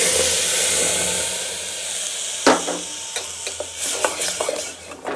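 Tomato paste frying in a pan while rasam is made, a steady close sizzle with scraping stir clicks and a few sharper spatula knocks toward the end, no talking.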